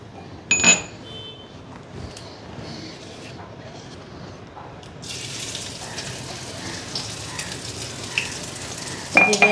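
Ginger paste hits hot oil in a pan with a brief sizzle, followed by quieter kitchen handling and a louder burst of frying hiss later, while a person talks over it.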